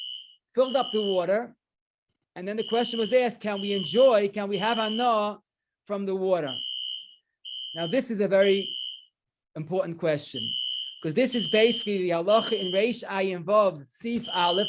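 A fire alarm sounds a repeated high-pitched tone in short bursts, running under and between a man's continuous lecture-style speech.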